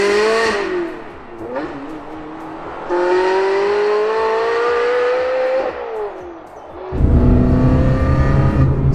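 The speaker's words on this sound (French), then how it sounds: "Ça c'est l'ouverture des valves à 4000 tours minute." A Ferrari engine revs in rising and falling sweeps, each climb holding a clear tonal exhaust note, before the valves open around 4000 rpm into a louder, fuller, deeper roar near the end.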